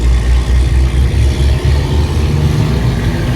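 A big diesel pickup truck engine rumbles loudly and continuously nearby, a heavy low drone with steady pulsing and no speech over it.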